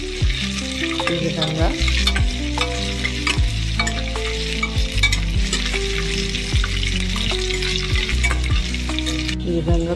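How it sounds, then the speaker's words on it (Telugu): Onions, curry leaves and garlic fry in a pan for a bottle gourd curry while being stirred, a steady loud sizzle broken by repeated scraping strokes of the spoon, close up, with no talk. "దాంట్లో ఇప్పుడు ఇది ఆనియన్స్, కరివేపాకు, ఇంకా ఈ ఎల్లిపాయ కూడా వేసుకొని కలుపుకోవాలండి."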